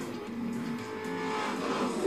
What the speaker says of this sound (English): Should we do a donut rather?